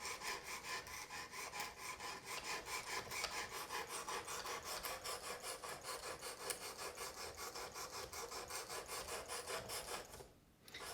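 Steady rasping strokes of a knife edge drawn across a 220 grit abrasive on a Work Sharp Precision Adjust sharpener, repeating in an even back-and-forth rhythm close by, then briefly dropping away near the end.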